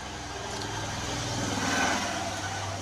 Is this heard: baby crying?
no